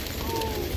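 A large flock of pigeons, about 1,600 birds, coos in a soft, low murmur, with a faint continuous burble close by.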